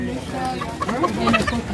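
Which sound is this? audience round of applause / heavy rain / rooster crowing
rooster crowing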